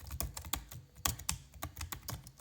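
Quick, uneven typing on a wide wireless computer keyboard, a close, clattery run of slappy keystrokes with a few louder key hits and no voices.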